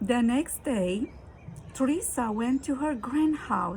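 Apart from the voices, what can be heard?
No everyday noises stand out.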